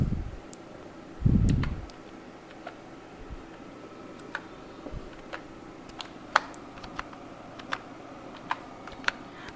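Sparse, crisp keystrokes on a computer keyboard as a captcha is filled in, with single taps spaced irregularly after a brief low thump, close by in a quiet room.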